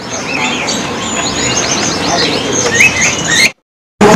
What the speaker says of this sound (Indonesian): Yang lagi mencari burung perenjak atas ya, seperti ini